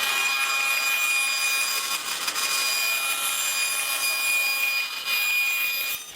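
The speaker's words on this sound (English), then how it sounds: "cut a strip from this offcut of the walnut" Strip being cut from a walnut offcut while building a classical guitar body, a steady, close, continuous sawing hiss with a sustained high whine, running for several seconds with slight dips, and no talking.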